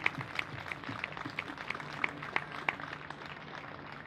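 Scattered applause from a crowd at an outdoor peace vigil in Vienna, moderately loud sharp claps repeating through the whole stretch, no voices on top.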